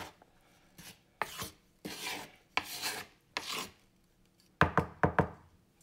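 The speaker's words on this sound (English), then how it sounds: "You gotta make sure you gotta stir it all in, or else it's not gonna rise properly and stuff." Bread dough with yeast being stirred by hand, giving rasping, scraping strokes in short bursts with pauses, ending in a quicker run of four strokes, close and fairly soft with no talking.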